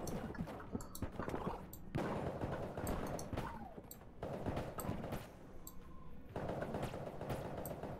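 Rapid bursts of gunfire from the video game Enter the Gungeon, arriving as repeated sharp shots in clusters with short pauses between, loud and close, with no talk over them.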